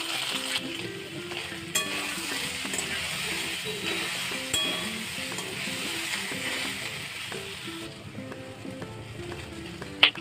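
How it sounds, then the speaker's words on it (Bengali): Soaked soybeans go into a hot pan for a vegetarian curry and fry with a steady broadband sizzle, with repeated stirring and clinks of a utensil against the pan, close and continuous, with no talk. "এবারে সোয়াবিন গুলো দিয়ে দিচ্ছি, ভিজিয়ে রেখেছিলাম আগে গরম জলে।"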